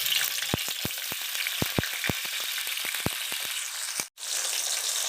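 Green chillies fry in hot oil in a pan, giving a close, continuous sizzle broken by many sharp crackling pops at an irregular pace, with no voices.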